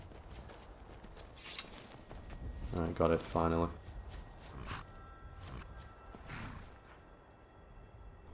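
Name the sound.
wild horse hooves in video game Skyrim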